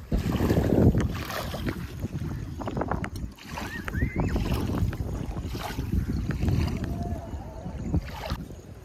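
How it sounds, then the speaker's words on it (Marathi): Water at Chikhloli dam makes a steady outdoor wash with wind rumbling against the microphone, and a few faint bird calls sound in the distance. "पाण्याचा आवाज ऐका फक्त"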